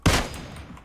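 A single loud, close gunshot from PUBG Mobile, a sharp crack with a brief decaying echo tail, alone without speech.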